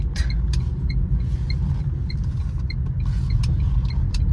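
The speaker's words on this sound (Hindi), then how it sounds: "अभी मैं एक बार यहाँ से यू टर्न ले लेता हूँ" A Tata Tiago running on CNG drives slowly through a U-turn in low gear. A steady low engine and road rumble continues throughout, with faint repeated ticking, likely the turn indicator, above it.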